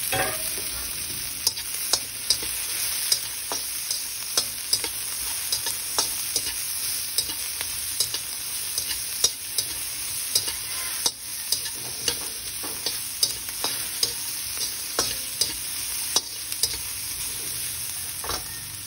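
Onions sizzling steadily in a hot pan with frequent stirring scrapes and clicks, a continuous close frying hiss throughout.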